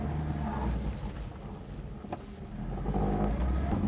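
A Vauxhall Viva with a small 1100 engine accelerates hard, the engine revving steadily, dipping briefly at a gear change to second, then pulling up again with rising revs; loud, close, in-car.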